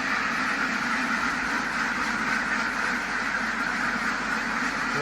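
A flock of ducks kept on a small farm quack continuously nearby, a dense overlapping chorus that stays loud and steady throughout.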